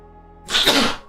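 A single sharp sneeze bursts out about halfway through, loud and close, after a quiet lead-in of low room hum.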